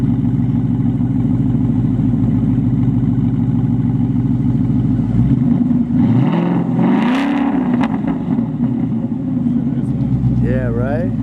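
A 2019 Mustang GT fitted with a Performance-brand exhaust revs loudly and close by, its deep engine note rising and falling over a steady rumble, with people talking over it.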